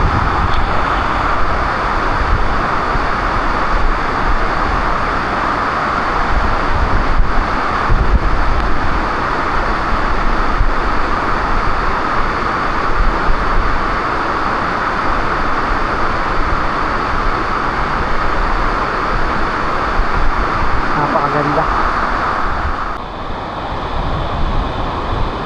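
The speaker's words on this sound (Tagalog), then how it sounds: "wala tayong ibang maririnig kundi yung tunog ng bagsak ng tubig." Steady roar of falling water at Monterico Falls, a dense, continuous rush that stays even and loud throughout with no other distinct sounds.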